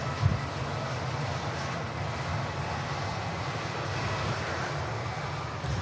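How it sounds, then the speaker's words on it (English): A Ryanair airliner bound for Cologne on its departure roll at Manchester Airport, a steady, distant jet engine roar holding at an even level throughout with no voices. "Ryanair for Cologne is on the departure roll already"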